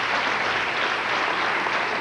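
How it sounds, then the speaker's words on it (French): A comedy show audience of parents breaks into applause, a thick, continuous roar of clapping hands that stays level for the whole moment with no one speaking. "Applaudissez si vous avez des enfants dans la salle."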